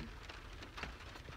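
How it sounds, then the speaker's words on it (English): Steady rain falling outdoors, a continuous soft patter of drops with occasional slightly louder splashes, no voices. "rain."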